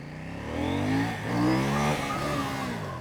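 KTM motorcycle engine in track mode revving hard near a petrol station exit, two rising throttle blips with harmonic climbs, loud and close, no talking.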